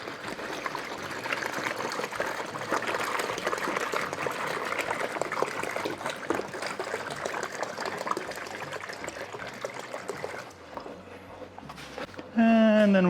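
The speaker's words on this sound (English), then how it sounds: "We're gonna pour the cold water in the bag." Cold water pours steadily into a brewing bag for pear cider, a continuous splashing trickle that stops abruptly near the end, followed by a brief tonal sound.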